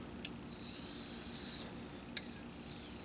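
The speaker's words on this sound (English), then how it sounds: "See if I can't deburr that a little better" A knife edge is drawn across a Smiths sharpening stone to remove burrs, giving soft, close rasping strokes with a couple of brief sharper scrapes, alone and fairly quiet.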